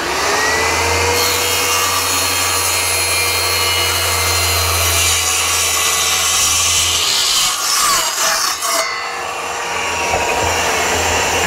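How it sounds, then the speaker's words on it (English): A power saw rips steadily through 1/2 inch plywood, a loud continuous whining cut lasting several seconds before the blade spins down and the motor fades. "I'm just cutting them out of my 1/2 inch plywood here"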